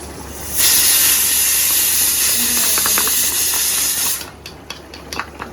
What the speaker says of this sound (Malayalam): എണ്ണ നിൽക്കുമ്പോൾ നമ്മളുടെ മുളക് പിടിക്കും